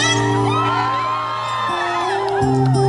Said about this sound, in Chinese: 可以播放这一个尖叫声